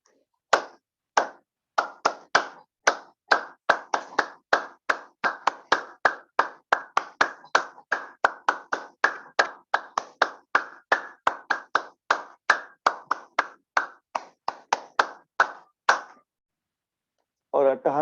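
A group claps hands together during a laughter yoga session, producing a long run of loud, sharp, evenly spaced claps at a brisk steady rhythm that stops abruptly before a short burst of voices.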